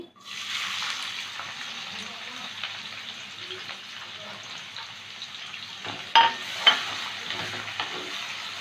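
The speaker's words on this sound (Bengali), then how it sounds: "পেঁয়াজটাকে একটু ভেজে নেব" Chopped onions frying in oil with bay leaves, cinnamon, cardamom and cloves for chicken dopyaza, a steady moderate sizzle with a couple of sharp utensil clinks near the end.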